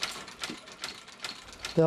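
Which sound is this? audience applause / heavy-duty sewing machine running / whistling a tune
heavy-duty sewing machine running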